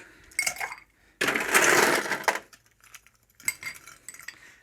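Ice going into a cocktail shaker for a vanilla vodka cocktail: a short clatter, then a loud, dense rattle of cubes lasting about a second, followed by lighter clinks.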